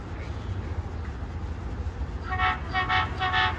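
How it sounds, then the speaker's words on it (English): Caltrain MP36 locomotive horn sounding in a few short repeated blasts over the low rumble of a train at a station, fairly close and loud. "This has a loud horn, MP36"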